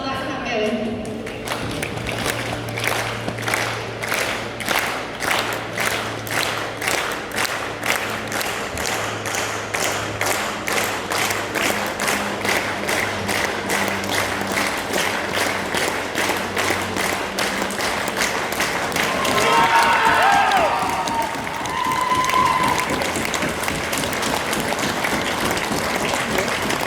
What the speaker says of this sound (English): So come on everybody, let's start that clap going.